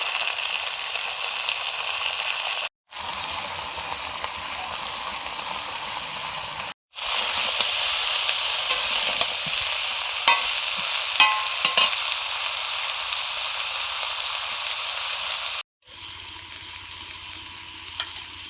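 Radish, kohlrabi, tender radish greens, eggplant, peas and cauliflower fry in a pan with a loud, continuous hissing sizzle and occasional stirring scrapes, broken by several brief silent gaps.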